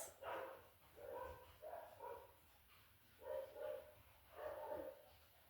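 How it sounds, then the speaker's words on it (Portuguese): A dog barks at a passing horse, sending out several rough bark bursts in irregular pairs, distant and faint against quiet background noise. "Cachorro latindo porque tá passando cavalo aí."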